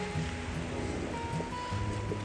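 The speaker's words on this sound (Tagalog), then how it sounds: "Ang lakas ng agos ng tubig dito oh." Strong rushing water current near Takakaw Falls in Alberta, Canada, a steady broadband roar of fast-flowing water with no break, close and continuous, with light rain falling.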